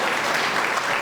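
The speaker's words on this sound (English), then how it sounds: "give them a round of applause" A brief, dense burst of crowd applause at a State of the City address, steady and full throughout the moment with no voices standing out.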